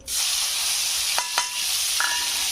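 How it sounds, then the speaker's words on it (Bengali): Whole cumin seeds fry in a hot pan, a steady close hiss of sizzling oil with a few faint clinks of a utensil, and no talk. "এটা একটু ভেজে নেবো"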